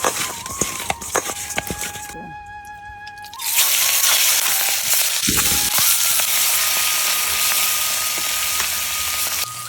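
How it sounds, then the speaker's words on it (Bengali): Hilsa fish coated in turmeric hits hot oil in a kadai and a loud, steady sizzle of frying takes over after some clattering of pans and utensils. "ইলিশ মাছ তো বেশি ভাজতে নাই"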